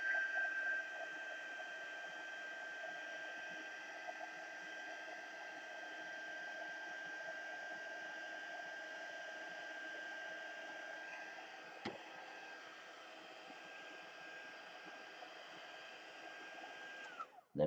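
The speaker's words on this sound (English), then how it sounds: "we're gonna bring in our heat tool and we're gonna heat that glue back up until it's warm" A craft heat tool blows continuously while warming hot glue for embossing, giving a steady whirring hiss with a thin whine that runs evenly and cuts off with a click at the end.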